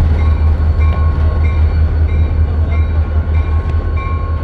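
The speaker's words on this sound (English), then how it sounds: "Bye, train!" A train rolls past on a railway track, loud and close, with a heavy low rumble and rhythmic wheel clicks repeating through the passage.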